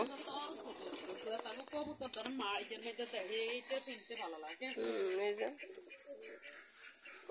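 Pigeons coo repeatedly in a steady rhythmic murmur at evening feeding time in a village, fairly close, with a person talking over the calls throughout.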